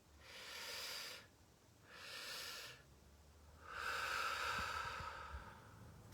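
Slow breaths during a breathing exercise come in three long, soft, airy swells close to the microphone, the last one longer and fuller, with quiet pauses between them and no talking.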